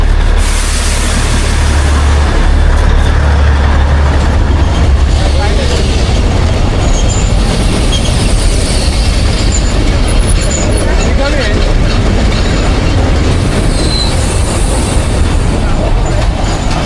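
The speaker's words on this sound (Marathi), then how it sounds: "ट्रेन आलेली आहे बाई." A train runs close by on the line near the Peb Fort trek, its loud steady rumble and clatter holding for the whole stretch while voices talk excitedly over it.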